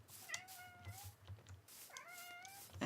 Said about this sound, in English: that's my cat saying that he wants feeding